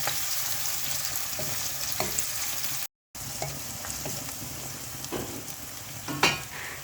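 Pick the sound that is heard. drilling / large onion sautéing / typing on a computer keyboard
large onion sautéing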